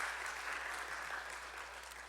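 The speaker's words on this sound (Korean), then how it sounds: "박수로 또 함께 환영해 주시기 바랍니다" A church congregation claps to welcome a visitor during Sunday worship, steady dense applause from many hands filling the room evenly from start to finish.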